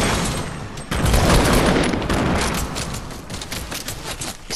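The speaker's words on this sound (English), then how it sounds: "we're getting grenaded" Grenade explosions in a video game, a dense roar of booming blasts and crackling gunfire that swells and fades across a few seconds, close and loud.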